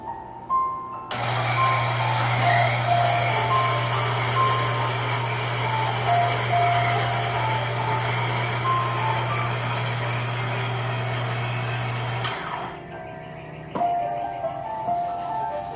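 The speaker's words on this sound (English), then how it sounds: "Onto the grinder." An electric coffee grinder grinds beans finely for a Bialetti moka pot, a loud steady whirring buzz with a strong motor hum that runs for about eleven seconds and then stops abruptly.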